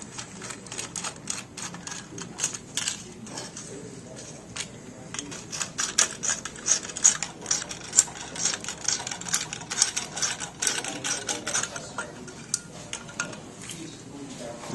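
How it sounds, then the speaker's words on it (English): Screws being tightened down on a Flexim WaveInjector ultrasonic flow transducer mount, a steady run of small metallic clicks and ticks with irregular rhythm, close and moderately loud over a faint background. "You want to press the transducer down inside and tighten down the screws."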